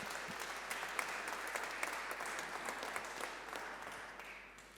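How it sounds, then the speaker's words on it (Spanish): Audience applause at a university event in Chile rolls on as sustained, dense clapping from a crowd, fairly distant in a large hall, then gradually thins and fades toward the end. "Un aplauso para Álvaro también."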